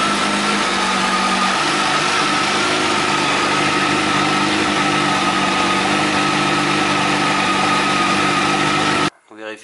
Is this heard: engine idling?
yes